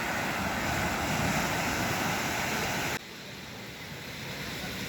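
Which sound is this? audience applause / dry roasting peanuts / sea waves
sea waves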